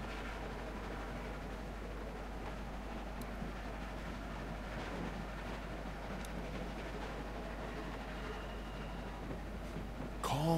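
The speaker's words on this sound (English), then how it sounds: "Stop the train." A train rumbles along steadily in The Walking Dead video game, a continuous low mechanical drone with faint rattling, moderately loud and unbroken, ending with a short sharper noise.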